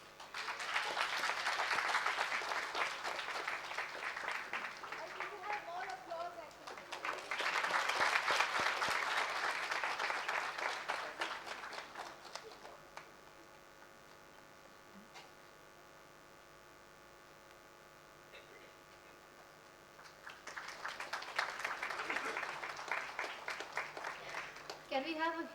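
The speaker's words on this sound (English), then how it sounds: "Can we have a huge round of applause, guys?" Audience applause at a graduation day ceremony in a hall: two long bursts of steady clapping, a quieter stretch with a faint hum, then clapping swells again toward the end.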